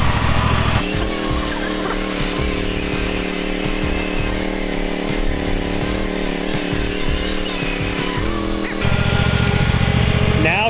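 A riding lawn mower engine runs steadily while mowing a yard near a tree and along a bed edge, loud and close throughout with a throbbing low drone, then briefly changes pitch near the end.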